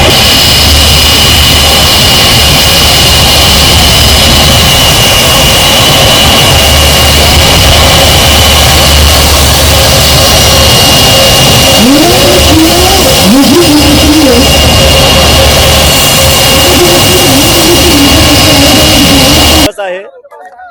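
An IndiGo passenger jet lands at Navi Mumbai International Airport on a commercial trial flight, its engines roaring loud and continuous throughout, briefly overlaid by a rising voice before an abrupt cutoff.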